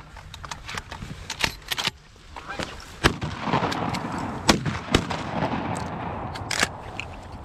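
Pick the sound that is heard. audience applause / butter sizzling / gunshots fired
gunshots fired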